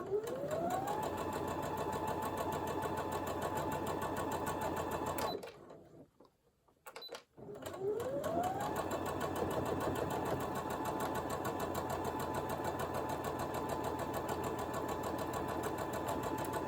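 Sewing machine stitching a four patch desk mat, a steady loud mechanical whir that runs continuously, drops out briefly for a pause of about two seconds, then resumes at the same pace.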